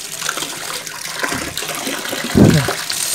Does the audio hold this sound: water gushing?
yes